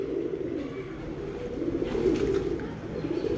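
A breeder pigeon hen from Kasur coos steadily, a continuous low burbling close by with faint background noise.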